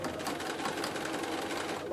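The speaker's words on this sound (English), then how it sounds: "you're going to sew right the way around" Sewing machine stitching around the handles of a fabric bag, a fast continuous rattling whir of the needle running steadily from start to finish without pause.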